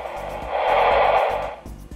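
A broadband static hiss rises from the speaker of an Icom ID-E880 handheld radio under repair, swelling for about a second before fading, alone with no talk over it.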